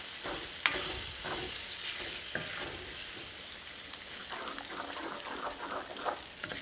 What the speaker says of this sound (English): Okay, so now just begin to mix the steak and everything with the egg.